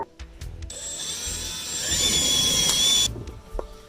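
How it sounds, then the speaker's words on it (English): Power drill boring pilot holes into a wall for a TV mount, a short burst of sustained high whirring lasting about two seconds that rises and then cuts off, with small clicks and handling noise around it. "Okay, the next step will be to pre-drill"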